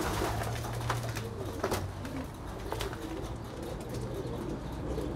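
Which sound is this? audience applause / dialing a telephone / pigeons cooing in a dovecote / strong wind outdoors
pigeons cooing in a dovecote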